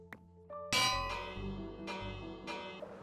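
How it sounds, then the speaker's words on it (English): A Minecraft bell is struck a few times, giving bright metallic ringing tones with a sustained shimmer, each strike clear and fairly close amid faint background game sounds. "I guess we'll try a bell."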